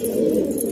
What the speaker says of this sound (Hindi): मुखी कबूतर मस्ती कर रहा है